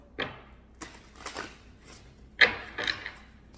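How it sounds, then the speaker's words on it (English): Several brisk papery riffles and slaps of a tarot deck being shuffled, in short separate bursts with brief pauses between them, close by in a quiet room. "Give it a good shuffle."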